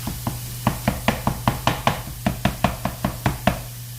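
Taco meat browning in a pan is chopped with rapid, even strikes of a utensil, roughly a dozen close, crisp taps in a steady rhythm over a faint constant hum, with no talking.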